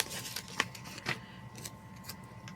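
Scissors snip through a paper pumpkin sticker, with a few crisp, quiet cuts spaced apart and no talking.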